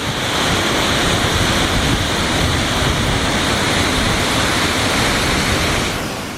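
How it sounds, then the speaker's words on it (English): Waterfall in southern Idaho, a steady, loud broadband roar of falling water that fills the whole clip without change, close to the listener, with no voices. "I had no idea there were so many awesome waterfalls in southern Idaho."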